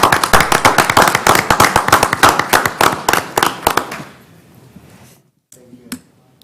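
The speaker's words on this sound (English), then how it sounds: "let's clap for it." A small group at a county commissioners court meeting in El Paso claps for about four seconds, the quick bursts loud and close before tapering into near silence with a stray clap or two.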